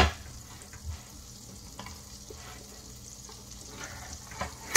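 Butter melts and sizzles in a pot on the stove while making condensed milk toffee, a soft continuous crackle with a few small stirring knocks and bumps, close and fairly quiet, with no talk.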